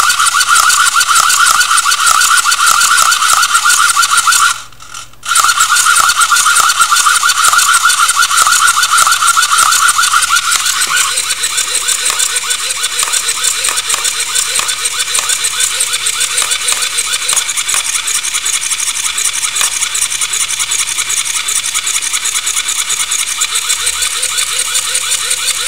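A servo motor controller machine runs loud and steady with a whirring, gear-like mechanical drone. It cuts out briefly near the start, then carries on with a slightly changed tone, close by and with no talk.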